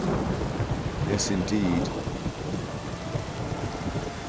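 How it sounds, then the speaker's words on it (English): Steady heavy rain pours during a thunderstorm in The Witcher 3: Blood and Wine, a dense continuous wash with a low rumble of thunder, while someone briefly speaks over it. "Even in the rain with a storm happening"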